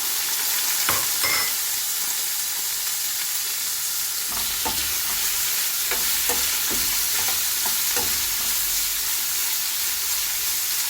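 Green chillies frying with garlic in hot oil for a poori masala curry, a steady close sizzle with a few stirring scrapes and clicks from a spoon, with no talk.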